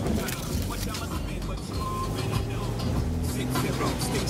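A Jeep engine drones steadily while crawling off-road in four-wheel drive, low rumble persistent throughout with muffled cabin noise and voices mixed in.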